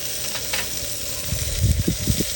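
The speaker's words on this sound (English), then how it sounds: "let's flip it again" Pompano fish is flipped on a hot griddle, giving a steady close sizzle with a few soft low thumps and bursts of frying near the end. No one speaks.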